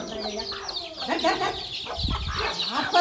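Chickens cluck and squawk nearby in short bursts, with a voice briefly mixed in among the birds.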